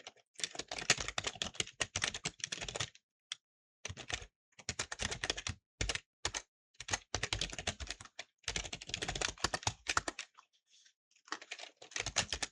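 Code being typed on a computer keyboard: close, rapid clattering keystrokes in bursts, with brief pauses between runs and no talking.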